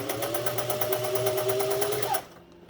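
A Singer 401a sewing machine stitches at a fast even rhythm, close and clear with a whining motor tone, then stops abruptly near the end.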